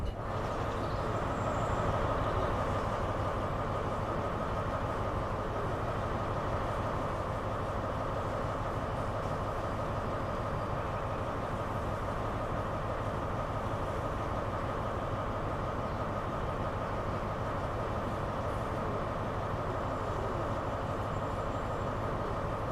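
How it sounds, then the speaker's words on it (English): A special HST high-speed train arriving at a station, its steady engine and rolling rail noise droning evenly and fairly loud throughout with no talk over it. "Nobody's really bothered that we've got this special HST coming in"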